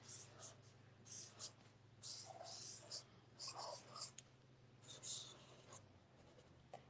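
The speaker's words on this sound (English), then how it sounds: "We are going to be tracing all of our pencil lines first." A pen traces pencil lettering on mixed media paper in soft, close scratchy strokes that come in irregular short bursts, quiet against a faint background hum.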